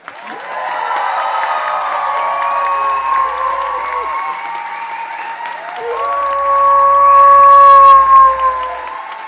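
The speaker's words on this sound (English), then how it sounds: "Anyway, you think she should win? Applaud now." An audience at a science slam during Berlin Science Week claps and cheers in a dense, sustained burst, with faint whistles or tones threaded through, swelling louder toward the end.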